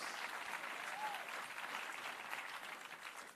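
Steady crowd applause fills an environmental awards ceremony hall, a dense, even wash of clapping that continues throughout at a distance.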